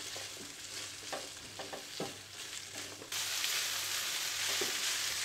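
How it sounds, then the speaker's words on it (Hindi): Finely chopped onion frying with chicken in a pan on high heat, a steady loud sizzle with scraping stirring strokes that swells louder partway through. "अब हम इसमें बारीक कटी हुई प्याज डाल देंगे और इसको भी 1 से 2 मिनट तक पका लेंगे।"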